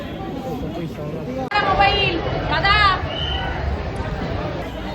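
Crowd murmur at the Dagdusheth Ganpati temple in Pune: a steady, close hubbub of chatter with a brief dip partway, and a voice speaking near the recorder.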